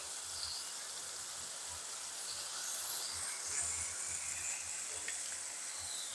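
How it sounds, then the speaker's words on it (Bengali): Ginger and garlic paste frying in hot oil for chicken keema curry: a steady, close, even sizzle with no voices and faint low bumps underneath. "এখন আমি এখানে চা চামচের এক চামচ আন্দাজ আদা বাটা আর রসুন বাটা"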